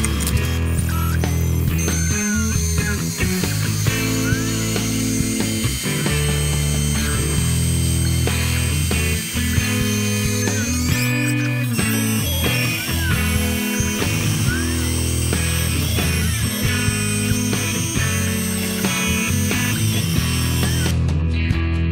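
A CNC router cuts wood for a piggy bank with no dust collection fitted, giving a loud, continuous grinding, whining drone with shifting pitch and rattles throughout, and no talk.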